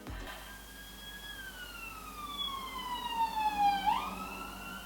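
A single wailing siren sweeps slowly downward in pitch, then jumps back up, heard from some distance over a quiet background.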